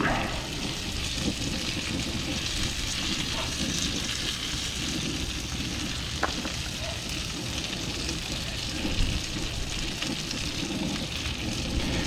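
Marron frying in garlic butter over a bush camp fire, a dense, constant crackle and hiss much like rain, close and steady throughout, with one brief sharp tick partway through and no talking.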